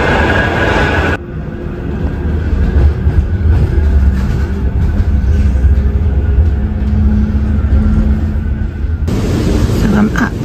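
A tram pulls in at night with a loud, close rumble and rolling rail noise that holds steady through the middle, a brief burst of street noise at start and end, and faint talk nearby.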